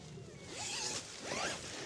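A zipper on a lightweight tent is pulled in two quick, rasping strokes, close and fairly soft, with faint outdoor ambience around it.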